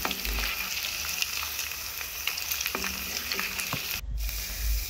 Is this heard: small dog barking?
no